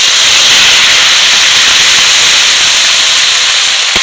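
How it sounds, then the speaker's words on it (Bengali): Boiled banana blossom dropped into hot oil in a kadai gives a loud, steady hiss and sizzle that fills the whole stretch close up, with no talking. "তেল গরম হয়ে গেছে, সেদ্ধ করা কলা মাছটা দিয়ে দেবো"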